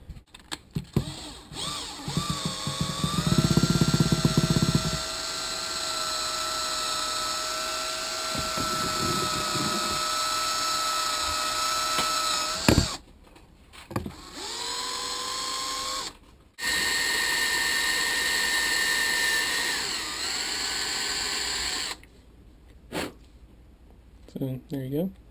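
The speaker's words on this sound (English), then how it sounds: "drill out the holes where the wires normally go" A power drill with an 11/64 bit whines at a steady pitch, spinning up and stopping several times, with short grinding bursts as it bites in while drilling out wire holes in an RC light bar, close and loud.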